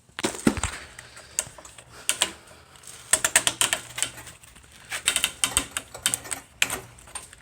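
A 2.5 millimeter Allen key turns a screw on the throttle of a Monster Moto 1000 minibike, giving soft irregular metallic clicks and ratcheting taps in bursts, close and fairly quiet.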